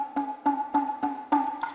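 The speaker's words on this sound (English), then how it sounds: "we have the katsuzumi, which is almost like a talking drum" Katsuzumi, a Japanese hand drum akin to a talking drum, struck five or six times in an even rhythm, each hit a sharp, clear tone with a short ring, close and alone.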